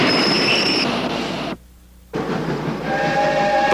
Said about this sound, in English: the train advances an increasing number of meters until it's eventually moving at a speed of 10 meters per second